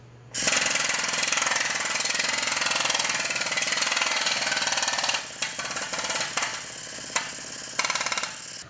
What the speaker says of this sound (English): So when working with the planishing hammer, as I mentioned, we're gonna let our air compressor run